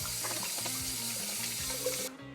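Hands being washed under a running kitchen tap while cooking pasta, a close steady stream of water splashing over skin and into the sink, cutting off abruptly near the end.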